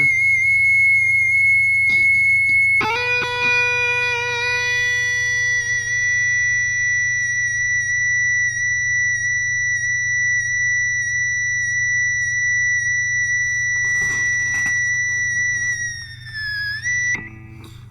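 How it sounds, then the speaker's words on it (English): A sustained, pure high electric guitar harmonic from a Sustainiac sustainer on an Ibanez JS240PS rings steadily over a low hum for many seconds, then wavers and fades away near the end. "that's the high harmonic that we should hear"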